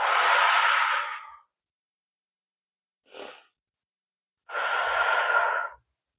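Deep breaths during a morning yoga stretch: a long airy exhale, a brief soft breath, then another long breathy exhale, close and separated by silence.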